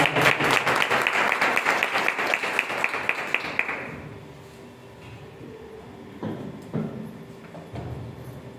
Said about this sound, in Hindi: जोरदार ताली बजाकर सिस्टर का स्वागत करें